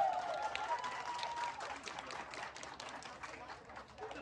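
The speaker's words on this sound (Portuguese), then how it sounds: "Cadê os aplausos aí, pessoal?" An audience claps at a pageant parade during a summer festival in Terra Nova, Careiro da Várzea, Amazonas, giving a steady, faint patter of many hands under a voice calling over a loudspeaker.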